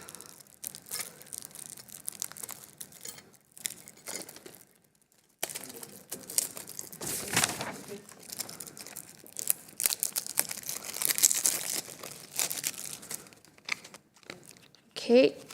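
An unopened packet of playing cards torn open at a meeting table, with intermittent crinkling, tearing and crunching of the wrapper in bursts and brief gaps, close to the microphone and mostly without talk.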